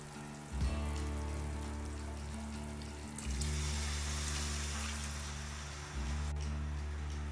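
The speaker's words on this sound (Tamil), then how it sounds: "இப்போ தண்ணி ஊற்றிக்கலாம்." Water pours into a pot of Thalappakatti-style biryani masala cooked with green chillies, garam masala and coriander, making a fairly quiet, steady splashing hiss that rises in three broad surges. No one speaks.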